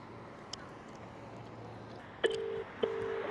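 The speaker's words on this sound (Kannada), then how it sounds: "ರಿಂಗ್ ಆಗ್ತಾ ಇದೆ" A phone call is placed from Abu Dhabi to India. A faint beep comes first, then two loud electronic ringback tones repeat close by over quiet room noise.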